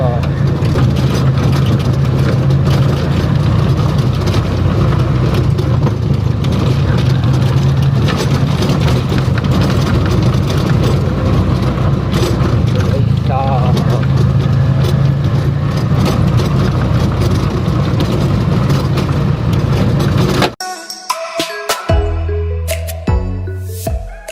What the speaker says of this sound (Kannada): ಈಗ ನೋಡಾಟು ಆರಿ BS3 ಮಾಡ್ತಿದ್ದು 4 ಸ್ಟ್ರೋಕ್ ಇಂಜಿನ್ ಗೈಸ್